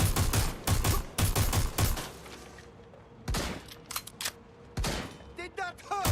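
Gunfire in Watch Dogs: Legion, loud close bursts of rapid shots in clusters with short gaps, some sharp single cracks, and brief shouted voices mixed in near the end.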